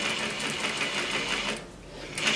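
A sewing machine stitches a curved rolled hem with a rolled hem foot, running in a steady, fairly quiet mechanical whir with small changes in speed.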